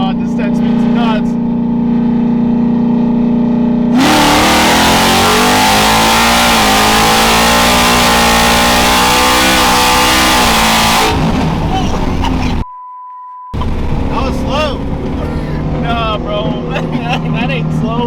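A car with a supercharged Gen 3 Coyote engine and 10-speed transmission accelerating hard, a loud roaring rev that climbs and holds for about seven seconds before easing off, with people talking over the engine noise before and after.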